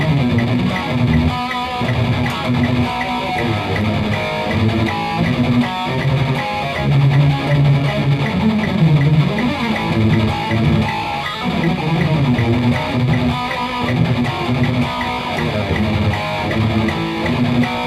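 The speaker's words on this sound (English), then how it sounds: "A fierce Euro metal groove." Distorted electric guitar chords chug through a fierce Euro metal groove, dense and loud with driving palm-muted rhythm that holds steady throughout.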